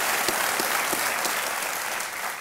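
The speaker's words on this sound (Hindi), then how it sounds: "इसके लिए तालियां बज जाए सिंधु के लिए।" A studio audience applauds for badminton player PV Sindhu on the quiz show KBC, a dense, steady burst of clapping throughout, close and full, with no talking over it.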